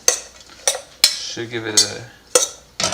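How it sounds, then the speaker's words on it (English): A utensil scrapes and clanks against a pan as food is stirred with olive oil, several sharp metallic knocks spaced irregularly, with a voice talking briefly between them. "Gonna give it a nice little stir."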